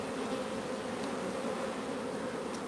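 Honeybees buzzing at an apiary make a faint, steady, droning hum that carries on evenly without breaks and with no voices.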